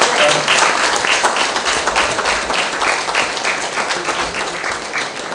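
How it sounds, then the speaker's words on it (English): An audience gives a warm round of applause to a community theatre group after their climate change production, many hands clapping densely and loudly, easing slightly toward the end. "Please give them a round of applause again."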